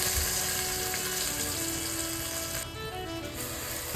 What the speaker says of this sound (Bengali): কড়াইশুঁটির পেস্ট যেটা ছিল সেটা কড়াইয়ের মধ্যে ঢেলে দেবেন